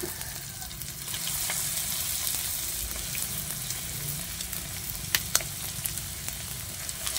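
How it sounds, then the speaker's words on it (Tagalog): Food sizzles steadily in hot oil, a continuous crackling fry with a few sharper pops near the end. "Prito-prito na natin itong ating laroka."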